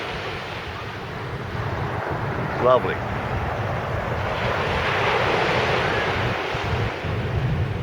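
Waves breaking and wind blowing on Gorleston Beach, a steady broad wash of surf with microphone wind noise, swelling in the middle; a voice speaks briefly.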